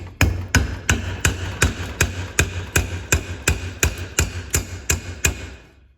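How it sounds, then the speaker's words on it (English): Steady series of about fourteen hammer blows on a small chisel, tapping a seized part off the water pump of a 1941 Farmall M tractor; sharp metallic strikes at an even rhythm, close and loud, with no talking. "hammer and a small chisel we can tap that and get it off of there"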